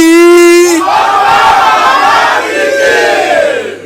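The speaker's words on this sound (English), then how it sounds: "I will know how much I am welcomed by the thunderous applause I will get." Political rally crowd at a Labour Party reception roaring back after a leader's sustained shout, a loud mass cheer and yelling that swells immediately and holds strong for several seconds before tapering.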